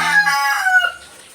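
A rooster crows loudly and close by in a backyard flock of chickens, one drawn-out call that fades into quiet.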